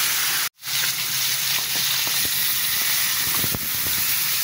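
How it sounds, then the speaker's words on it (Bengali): Baim eel fish fry in hot oil with a steady, close hiss and crackle; after a brief cut near the start, the sizzling carries on unbroken. "মাছগুলো এবার ভাজা হোক।"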